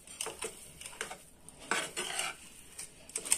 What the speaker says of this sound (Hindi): अब हम इसको मिक्स कर लेंगे